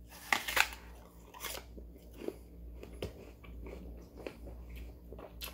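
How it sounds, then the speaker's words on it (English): Crisp bites into a Honeycrisp apple followed by crunchy chewing, a few sharp crunches early then softer intermittent chewing, close and fairly quiet. "This apple, nice crisp taste. It's sweet. It's crunchy."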